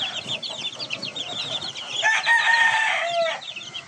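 A flock of Spangled chickens clucks busily nearby, and a rooster crows once partway through, loud and close over the steady clucking.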